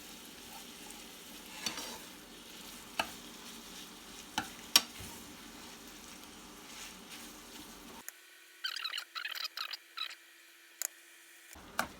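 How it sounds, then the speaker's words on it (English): Sausage browning in a pan hisses faintly and steadily while a utensil chops through it with sporadic scraping knocks, then the sizzle cuts out into near silence broken by brief clattery stirring bursts. "We're going to flip it over and just cook it until all the sausage is brown."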